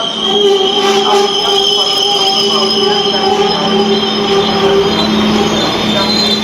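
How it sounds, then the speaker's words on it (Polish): A train pulling into Legnica railway station, its wheels squealing loudly in sustained high-pitched tones over the rumble of the rolling carriages, close by and unbroken throughout. "No i tak nadjeżdża pociąg."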